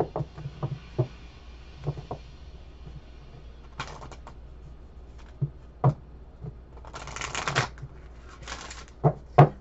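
Tarot cards are shuffled close up in several bursts, riffles and quick flutters separated by sharp taps and knocks, with brief quiet gaps between.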